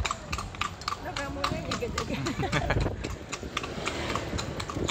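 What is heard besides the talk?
horse hooves clip-clopping pulling a bendi carriage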